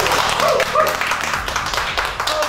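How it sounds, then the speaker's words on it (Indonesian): A studio audience on an Indonesian talk show claps, a dense steady wash of applause filling the short moment, loud and close, with voices mixed in. "Tepuk tangan buat Alif."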